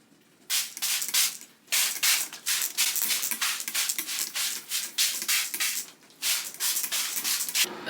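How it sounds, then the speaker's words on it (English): A run of short, breathy spray bursts of neem oil onto plant leaves, repeating in quick succession, fairly close and loud, with brief pauses between groups. "I'm gonna wash the leaves off and spray them all down with neem oil."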